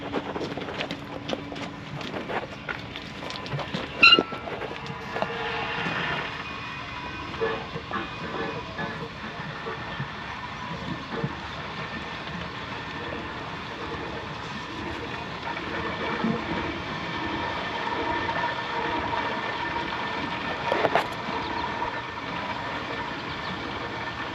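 A water pump running in a sump setting makes a steady mechanical hiss and rumble throughout, with occasional clicks and brief louder knocks, moderately near.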